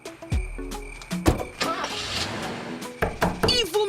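A car engine cranks and turns over, a loud, rough burst that settles into a running rumble, with clunks and mechanical noises around it.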